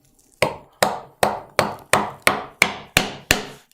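A chisel is struck over and over to chop a mortise in a wooden side table leg: nine loud, sharp, evenly spaced blows, each ringing briefly, close by with no talking.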